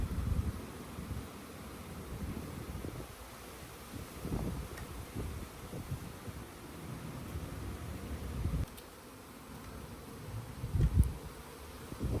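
Honeybees buzz around an open hive from a beginner's nuc that has outgrown its box, a soft steady hum with bursts of nearby wing noise and rustling, fairly faint throughout.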